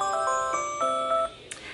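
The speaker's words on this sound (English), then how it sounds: "Look, feeding alarm." A baby feeding alarm chimes indoors, a close electronic melody of clear repeated tones lasting about a second before stopping, followed by a faint short blip.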